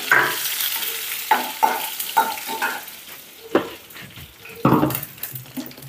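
Dried chili and curry leaves land in a hot pan and sizzle steadily, with close scraping and clinking of a spoon stirring against the pan.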